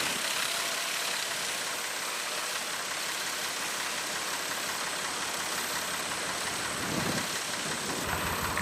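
A farm tractor engine runs at a steady idle while food plots are worked in autumn, a continuous close mechanical drone with a slight knock and no voices, rising briefly in a short surge near the end.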